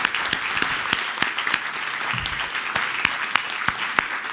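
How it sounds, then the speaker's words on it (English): A conference audience at The Americas and the World Forum applauds for student volunteers at the close of the event, giving a steady, full round of clapping with a few sharper individual claps standing out throughout. "let's just give them a round of applause"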